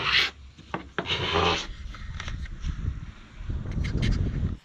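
Rough scraping against wood, repeated in uneven strokes with rasping bursts, close up and fairly loud.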